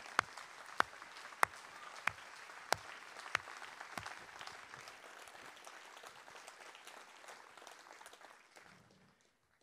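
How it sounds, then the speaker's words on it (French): An audience at a national eloquence contest applauds with dense, steady clapping, a few sharp claps standing out, before it fades away at the end. "Je vous prie d'accueillir le pétillant maître Bertrand Perrier sous une effervescence d'applaudissements."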